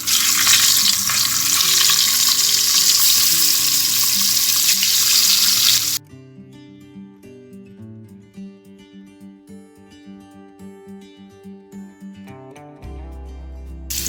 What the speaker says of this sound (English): Fry these eggs.